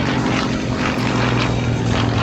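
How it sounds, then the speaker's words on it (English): A propeller airplane built to look like a golden-age barnstorming aircraft drones steadily overhead at the 2024 Beverly, Massachusetts airshow, a continuous loud engine roar with no voices. "The airplane Trevor is flying today, although not from that era, was designed and built to have the look and feeling of those great old aircraft"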